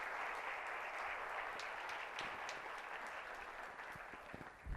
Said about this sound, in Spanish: dale el mejor aplauso que tú puedas ahí al Señor por su palabra